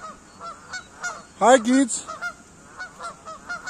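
Canada geese honk in a loud burst of harsh calls midway at a neighborhood lake in Missouri, with scattered fainter honks before and after and a person briefly speaking nearby.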